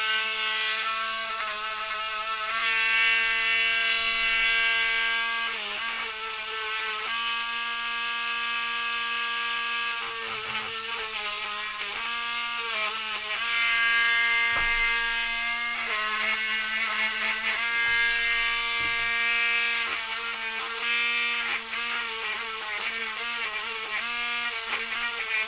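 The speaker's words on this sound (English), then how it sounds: "Generic Dremel, Harbor Freight Dremel with an actual 443 bit." Generic Harbor Freight rotary tool fitted with a 443 bit cleaning pinball score reel parts, a continuous close high-pitched whine with slight dips in pitch as the bit presses against the metal.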